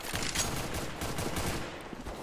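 Dense, continuous video game gunfire from Counter-Strike: Global Offensive, rapid overlapping shots crackling steadily throughout without any talking.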